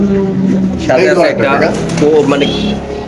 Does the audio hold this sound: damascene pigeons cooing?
yes